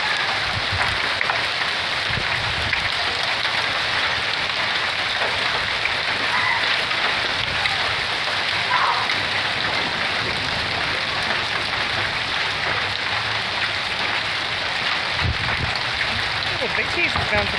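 A gutter spills hail slush during a spring hailstorm on the Rockies Front Range, giving a constant splashing rush with scattered thumps; a voice talks faintly beneath it.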